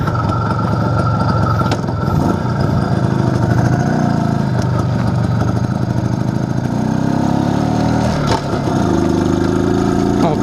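An IZh Planeta 5 motorcycle, fitted with a Chinese carburetor and with a newly replaced crankshaft seal, idles close by with a steady, even putter, its pitch rising and falling in a few light revs.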